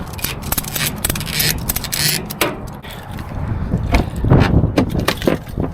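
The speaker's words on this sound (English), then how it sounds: "let me go ahead and strap this thing down." Straps being pulled and ratcheted down over a badly wrecked Duramax pickup, with scraping, clicking and rattling close by and no talking.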